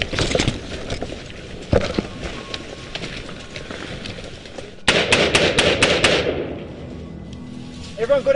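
Gunfire from an insurgent marksman near a drug lab, heard as a string of sharp broadband cracks with a rapid burst of several shots around the middle, over continuous background noise and some speech.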